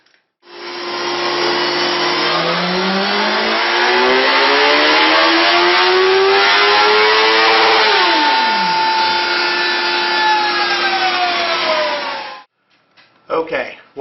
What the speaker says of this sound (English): then we're going to roll up the BMW S1000RR for a comparison